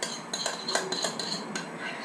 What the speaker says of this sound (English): you just have to keep stirring and stirring and stirring until everything gets mixed up in there